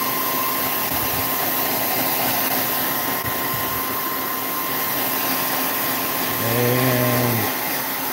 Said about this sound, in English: So I just got my hair dryer out here. Just a Revlon hair dryer.